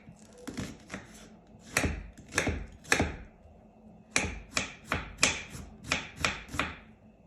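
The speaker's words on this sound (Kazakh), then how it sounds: "Пияз тураймыз." An onion being chopped with a knife on a board, a run of crisp thuds in two bursts, close and clear with no talking.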